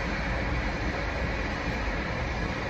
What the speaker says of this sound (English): it's a train going by